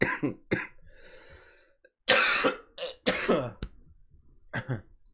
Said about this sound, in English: oh, excuse me, cough attack.